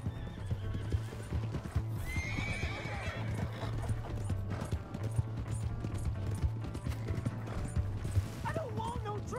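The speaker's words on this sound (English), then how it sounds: "Hey, that's my horse. Just borrowing it." Horse hooves galloping in the video game Red Dead Redemption 2, a steady rapid clip-clop throughout with a whinny early on, while voices talk over the ride.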